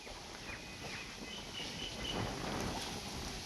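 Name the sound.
wind blowing continuously outdoors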